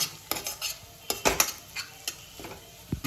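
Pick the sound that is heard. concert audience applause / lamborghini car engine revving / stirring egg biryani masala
stirring egg biryani masala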